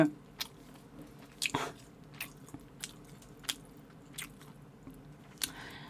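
Close, crisp bites and squishy chewing of a pork belly lunchbox in a mukbang, with sharp crunchy bursts at irregular intervals over quiet, moist mastication and no talking.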